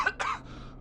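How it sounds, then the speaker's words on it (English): A character coughs in the video game Killer Frequency, two quick harsh throat bursts close together, then a fading breathy tail, fairly quiet. "Ooh, I bet those coughs hurt."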